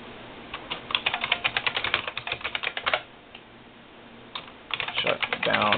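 Keys clatter on an old IBM RS6000 computer keyboard in quick bursts of rapid, close typing, broken by a short pause before another fast run of keystrokes.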